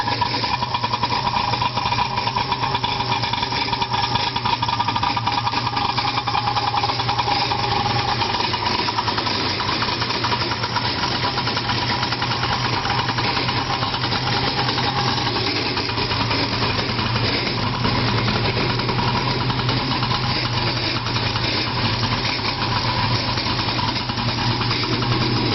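A Polaris SLX 780 personal watercraft engine idling steadily, a constant low mechanical rumble and hum that keeps an even level with no revving.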